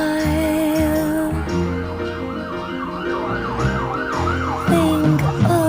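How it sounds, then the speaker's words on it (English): Emergency sirens wail loudly in rising and falling sweeps over a song, with the siren overlaid on the music rather than part of the original recording. "Those sirens are not in the original recording."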